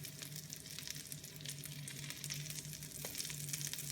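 Aloo tikki potato cutlets fry in a pan with a continuous crackling sizzle, a low steady hum underneath and an occasional light tap as a fork turns them.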